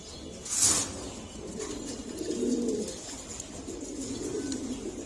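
Male pigeons coo close by in a loft, low throaty rolling calls repeating through the stretch, with a sharp flutter or chirp near the start and faint background noise.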